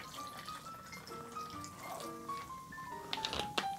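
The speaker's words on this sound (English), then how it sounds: "So we're gonna top that with Topo Chico." Topo Chico sparkling mineral water poured to top off a keto summer cocktail, a gentle trickle with fizzing and a rising fill tone, fairly quiet and close.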